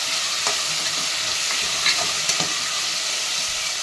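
Onions frying in a pan on the stove and being stirred, a close, continuous sizzle with a few brief scraping clicks from the spoon, with no talk.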